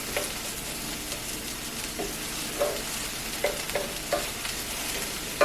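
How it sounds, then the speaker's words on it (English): Diced vegetables toast in a hot pan for huevos rancheros, with a steady loud sizzle broken by a few scraping stirs up close. "Stir those around a little bit so we get nice and toasty."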